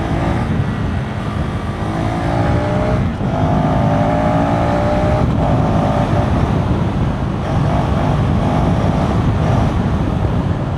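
A KTM 390 SMC-R motorcycle ridden on a road near Lignano, its engine note buzzing steadily under heavy wind rush, loud and continuous with gear-change dips.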